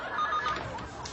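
A telephone bell rings in a home, a short burst of trilling ring heard close and clear with no talk over it.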